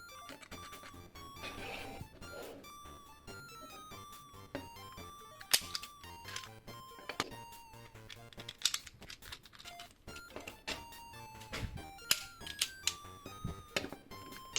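Forceful typing on a custom keyboard with thick magnets in the keys and a thin magnet plate underneath, giving rapid, uneven clacks and sharp louder strikes throughout, close and clear with no talking.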